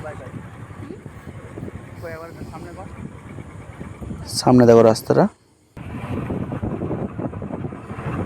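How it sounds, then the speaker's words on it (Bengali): A motorbike ride on a road heard as steady wind rush and engine rumble buffeting the microphone, with a louder tonal burst midway and a brief dropout, while a person talks over it. "বাইকে যাচ্ছি"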